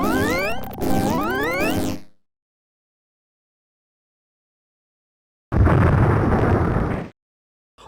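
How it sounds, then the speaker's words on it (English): Two loud bursts of cartoonish explosion from a bomb-defusing video game, the first with rising whistling tones, then silence and a second rough, noisy blast. "If you make the wrong move while defusing, everyone except Cyber not only dies, but they get freaking obliterated"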